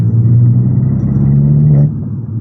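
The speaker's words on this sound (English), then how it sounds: "let you guys just experience the exhaust" An Abarth car engine with a Toyosports sports exhaust rumbles steadily at a low pitch with a droning exhaust note, easing off near the end.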